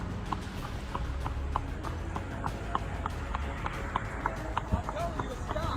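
A horse's hooves clip-clop in a quick steady rhythm on hard ground during a roadside police stop, heard alongside people talking.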